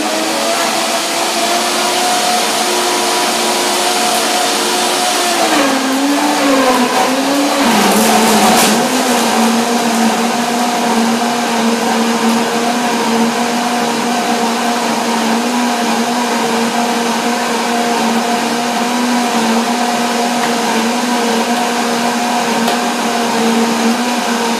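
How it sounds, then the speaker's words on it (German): A steady, loud electric blender whir blending blueberries and ice runs throughout, with a brief wobble in pitch midway as the load shifts, then settles into a constant drone. "Der Mixer die Blaubeere runtergezogen und das Eis von der Blaubeere ist in die Klingen reingezogen."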